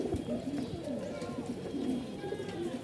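Several pigeons coo steadily and close by in a loft of racing pigeon pairs, their soft rolling calls running without pause through the whole stretch.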